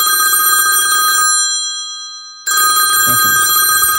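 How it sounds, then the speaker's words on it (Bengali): A telephone rings loudly and close by in two bursts of bright, steady bell-like tone, separated by a short gap of near silence. "ফোনটা বাজতেছেনি।"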